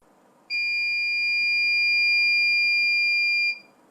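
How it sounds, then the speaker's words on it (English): A SmokeSight SS10LNAN wireless smoke alarm gives a single loud, high-pitched electronic beep that holds steadily for about three seconds, then cuts off, leaving quiet room tone. "Its white LED will flash and beep for 3 seconds."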